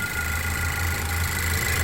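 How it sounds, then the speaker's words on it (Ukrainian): A used car's engine, with 181,000 km on it, idles steadily at a car market, a low even hum with no talking over it. "Заведений двигун"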